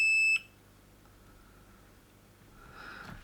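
A Peak DCA55 component tester gives a single short, high-pitched electronic beep, clear and close, then faint background noise with some rustling handling sounds.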